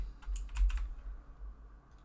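A quick flurry of computer keyboard keystrokes typing a word into a database query, a short close burst of clicks that fades into quiet room tone.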